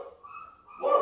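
A female dog barks once, loud and close, with a sharp burst near the end after a softer whine-like tone.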